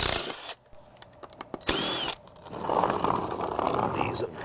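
Power drill backing screws out of a wooden form on repaired concrete stairs, heard in short whirring bursts close by, with a person talking over parts of it.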